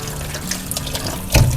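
Tap water runs into a sink while sweet potatoes are washed, a brief steady splashing stream that grows louder at the end, with no talk.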